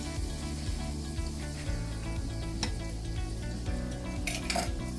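Butter melts and sizzles in a hot pan, a steady loud hiss with a low hum running under it, small clinks of pan or utensil and a sharper crackle burst near the end.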